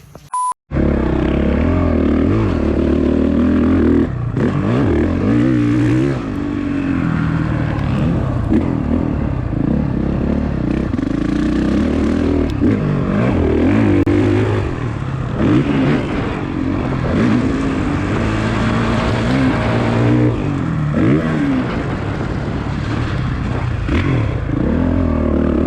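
A motocross dirt bike laps a muddy track, its engine droning and revving steadily up and down close by for the whole stretch, with wind and rattling mixed in and no talk.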